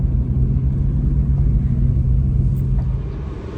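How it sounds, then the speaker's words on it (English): A Jeep Cherokee XJ driving after a slip yoke eliminator install, heard from inside as a loud, steady low rumble of engine and road noise that eases off slightly near the end. "you guys just seen the last clip of us driving the XJ after the SYE was put in"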